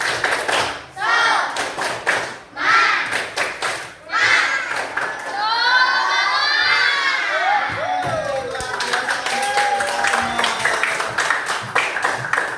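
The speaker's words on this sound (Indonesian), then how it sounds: "Kita tepuk semangat dulu." A classroom of students does a rhythmic spirit clap in unison during a religious history lesson, with bursts of cheering and children's voices rising over the claps, loud and close.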